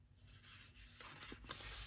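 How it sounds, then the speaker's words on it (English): Folded paper being burnished along its crease while making a Stampin' Up! Paper Pumpkin craft; close, faint rubbing strokes with soft scraping swishes, no voices. "So you're going to fold it in half and burnish on your fold."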